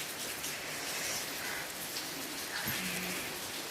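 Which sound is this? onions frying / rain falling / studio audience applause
rain falling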